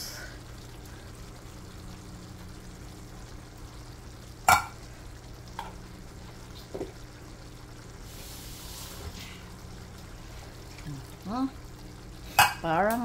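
Pork menudo with tomato sauce is stirred in a pan on the stove, a low simmering sizzle broken by a few sharp scrapes and clinks of a spoon against the pan, with a voice heard briefly.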